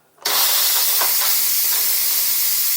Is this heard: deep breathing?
no